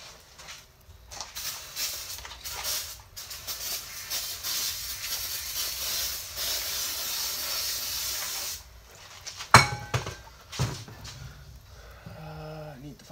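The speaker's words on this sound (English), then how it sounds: "Clean, so we're using some starter fluid." Aerosol starter fluid sprays in long, loud hissing bursts while cleaning parts of a Ford 8.8 axle, followed by clanks of metal and people talking nearby.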